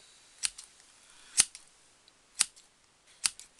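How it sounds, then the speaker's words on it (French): Large scissors snip through yarn loops to form a pompom, four crisp separate cuts about a second apart, close and clear against quiet background. "vous coupez toutes les boucles"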